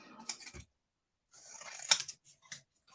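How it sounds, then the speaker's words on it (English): Big scissors cut paper with a few crisp snips and slicing rasps in two separated bursts, close and clear, with no talking. "I do find big scissors"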